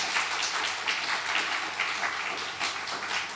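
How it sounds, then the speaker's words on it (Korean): A church congregation at a Sunday service claps in welcome for a visiting family, a sustained even patter of many hands filling the room for a few seconds. "박수로 환영해 주세요."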